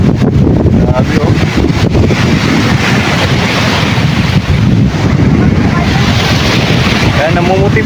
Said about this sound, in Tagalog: Dahil napakalakas po ng alon ngayon.